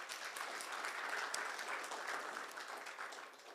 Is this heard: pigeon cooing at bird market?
no